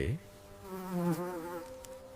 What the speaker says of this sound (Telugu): మనం తినే ప్లేట్ల మీద ఈగ వాలితే